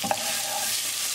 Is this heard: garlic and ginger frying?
yes